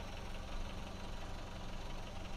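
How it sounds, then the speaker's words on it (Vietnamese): A 2008 Chevrolet Captiva petrol engine with automatic transmission idles steadily and quietly close by, a continuous low rumble with a faint even vibration and no voices over it. "Máy nổ im ru, động cơ là xăng nha quý anh chị, động cơ xăng đời 2008"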